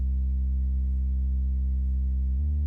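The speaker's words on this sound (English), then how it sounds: "It's just a vintage synth which has a lot of nice character to it." A rich, buzzy vintage Moog synthesizer tone holds one low note steadily, then drops to a new pitch near the end, alone and fairly loud.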